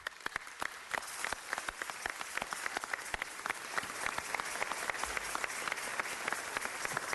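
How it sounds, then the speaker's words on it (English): Audience applause at a city council meeting, a crowd of hands clapping in a sustained, fairly even patter from start to finish, heard at a middle distance with no talking over it. "So I want to give them a round of applause,"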